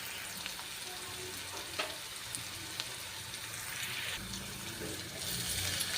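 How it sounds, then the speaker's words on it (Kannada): Beetroot and chili powder frying in oil in a pan, a soft steady sizzle with occasional stirring clatter that grows a little louder toward the end, no voices. "ಇವಾಗ ಇದು ಫ್ರೈ ಆಗ್ತಾಯಿದೆ."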